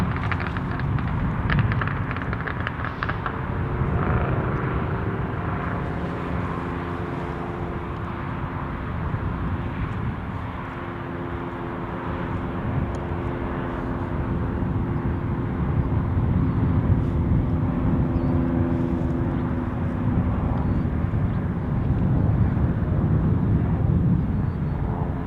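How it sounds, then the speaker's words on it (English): Norwegian Air Shuttle Boeing 787 jet at Paine Field, a sustained broad engine roar that swells and fades gently over time, loud and steady with distant rumble beneath. "appears to be a Norwegian Air Shuttle 787"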